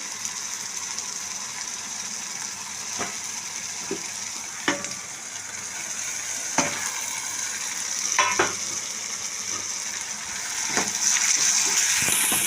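Onions and spices fry in oil in a pan for a pomfret fish curry, a constant close sizzle with intermittent scraping strokes and spatula knocks as the masala is stirred.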